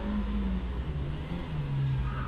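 A first-class hill climb race car at Loton Park comes down the hill toward a bend, its engine droning loudly and steadily with rising and falling pitch as it accelerates, close and continuous throughout.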